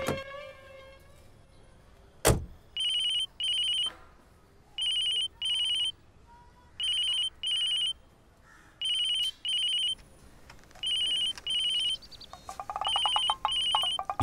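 A phone rings in repeated paired electronic trills with short gaps between them. A sharp bang is heard first, and a warbling tone comes in near the end.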